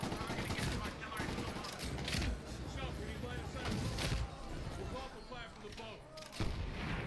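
Rapid gunfire and booming grenade explosions from Medal of Honor Warfighter crackle continuously, with a voice talking over the combat sounds.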